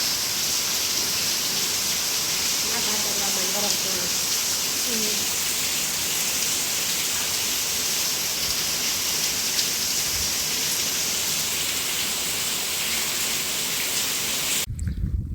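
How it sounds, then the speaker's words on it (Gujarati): Heavy rain pours steadily over a village, a dense, even hiss that continues for the whole stretch, with a voice briefly heard early on. "અને હજી કોક કોક છાંટા પડે હે"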